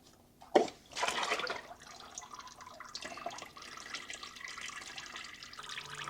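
Engine oil from a Porsche 987.1 Boxster S oil filter spills and trickles after a sharp clatter at the start, settling into a faint, continuous dribbling splash.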